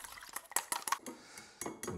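An egg with a pinch of salt and curry powder being beaten for a small omelette, a utensil clattering in rapid, uneven strokes against the bowl, close and fairly quiet, with no voices.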